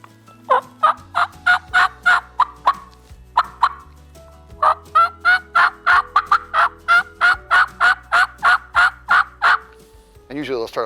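Turkey clucks and cuts imitated on a mouth call, a close, loud string of sharp, choppy notes in quick irregular bursts, alone without talk.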